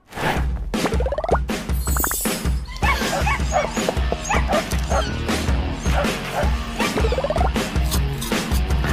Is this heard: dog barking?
yes